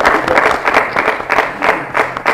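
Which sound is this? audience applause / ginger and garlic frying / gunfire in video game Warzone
audience applause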